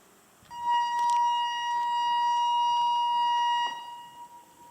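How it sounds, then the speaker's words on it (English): A steady electronic alarm tone from a noon test siren in Kochi, Japan sounds for about three seconds, a sustained pitched drone with faint background noise before and after. "This is the test alarm notification that happens at noon"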